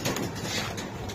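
Club racer pigeons, among them a restless red checker cock courting a hen, coo softly amid dense flapping and rustling in a busy loft.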